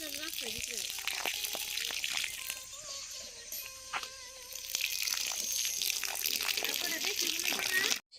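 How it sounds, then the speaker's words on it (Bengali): Water is poured onto newly planted chili seedlings outdoors, a faint, uneven splashing and trickling with intermittent clinks, while a voice talks over part of it. "এখন জল দিচ্ছি।"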